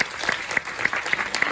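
An audience at the Champs-Élysées Film Festival claps in a quick, even rhythm, with individual sharp claps standing out over a dense layer of applause during a brief burst.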